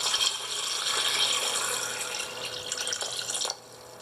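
Water pours steadily in a bright splashing stream for a few seconds, then cuts off abruptly, leaving quiet background.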